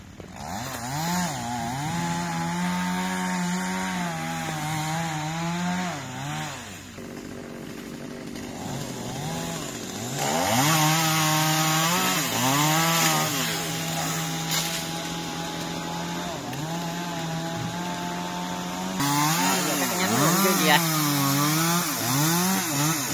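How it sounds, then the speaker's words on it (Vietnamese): A chainsaw engine revs and whines through a long stretch cutting a branch from a huge sao den tree, pitch rising and falling as it bites into wood, with brief idling dips between cuts. "giờ cho em kéo máy cưa lên cắt cái nhánh này nha"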